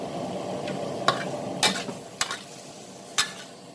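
Squid stir-fried with holy basil in a hot pan over high heat, a steady close sizzle broken by several sharp scraping strokes of a spatula.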